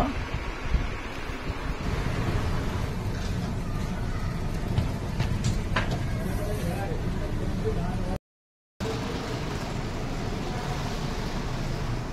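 Steady, broadband rushing wind noise on a moving train buffets the microphone throughout, with a low rumble underneath, briefly cutting out near the end before resuming.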